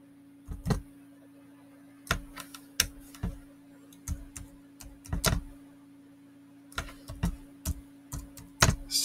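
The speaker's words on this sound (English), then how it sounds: "we're just going to type" Typing on a computer keyboard, close and fairly quiet: irregular bursts of crisp key clicks and taps separated by short pauses, with a faint steady hum behind them.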